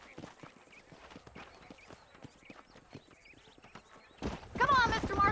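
Horses trot through the Red Dead Redemption game world, their steady clip-clop hooves running beneath game dialogue and ambient sound, then a louder burst of noise near the end.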